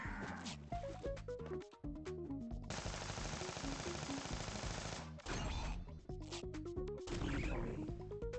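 Rapid automatic chain gun fire in the video game YIIK I.V, bursts of fast rattling shots broken by short pauses, loud and close over game music and effects.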